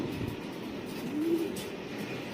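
A single soft coo rises briefly from racing pigeons in their loft amid a muffled background hum, faint and close, with no one speaking.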